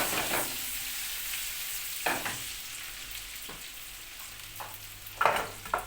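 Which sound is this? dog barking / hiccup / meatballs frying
meatballs frying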